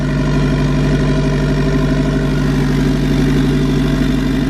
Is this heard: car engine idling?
yes